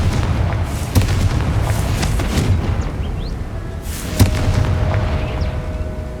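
In the Hogwarts Legacy video game, a Confringo fire spell hits with a boom followed by a second blast a few seconds later, set against a rumbling, crackling background.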